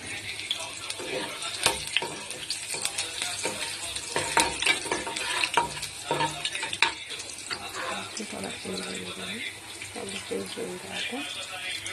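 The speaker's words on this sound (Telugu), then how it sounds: "ఆయిల్ వేడెక్కిన తర్వాత వెల్లుల్లిపాయలు వేద్దాం." Garlic fries in hot oil with a steady, close sizzle, broken by scraping stirs and clinks of a utensil against the pan. A voice talks at times over the cooking.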